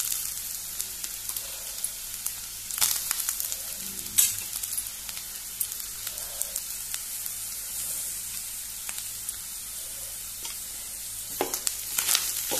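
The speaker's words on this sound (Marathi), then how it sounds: "बरी बारीकूच गॅशीचेर भाजपाची सोय" Grated coconut and onion roast in a pan with a steady, quiet sizzle, with a few brief louder stirring scrapes and crackles breaking through now and then, no voices.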